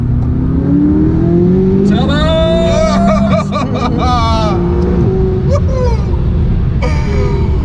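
A McLaren 540C sports car with an aftermarket exhaust revs in sharp rising bursts over a steady idle, loud and close, with voices talking and laughing around it.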